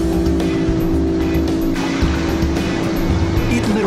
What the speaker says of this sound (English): Here are two engines with the same horsepower, but look at the difference E-TEC's tremendous torque makes.